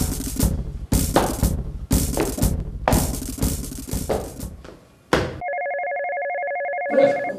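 A telephone rings with a steady electronic tone that enters after a burst of loud sharp bangs and commotion, holding clear and close for about two seconds before other sound cuts in.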